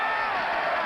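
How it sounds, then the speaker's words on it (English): Football stadium crowd at the 1986 CFL West Semi-Final, Calgary Stampeders at Edmonton, a dense sustained roar of cheering that fills the brief moment, loud and unbroken. "the crowd is really getting involved with the game now"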